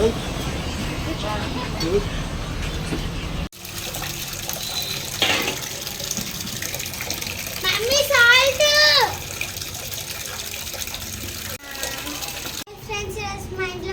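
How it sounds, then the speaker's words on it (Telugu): Fish for a curry are washed by hand in water, with splashing and running water. A child and an adult talk throughout, and abrupt cuts break the sound. "ఫిష్ కర్రీ నేను కడుగుతున్నాను"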